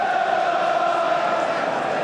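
A Premier League football crowd at Manchester United against Liverpool gives off a steady, far-off roar of cheering that fills the whole stretch evenly, with no single shout standing out.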